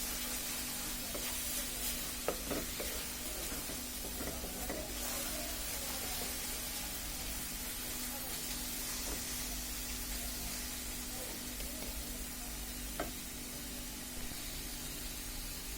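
Carrot halwa (gajorer haluwa) being stirred as it cooks in a pan, a soft steady sizzle under a low constant hum, with occasional faint scrapes and taps of the spoon, no voices.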